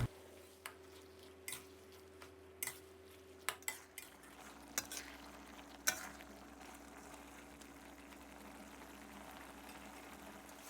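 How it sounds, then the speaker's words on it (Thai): Pork stir-fried with garlic and black pepper in a pan, with faint sizzling and a series of metal spatula clinks and scrapes early on, then a quieter steady hiss; no talking. "แล้วก็ให้เราผัดคลุกเคล้าให้เข้ากันนะครับ ผัดให้หมู เราสุกเลยนะครับ"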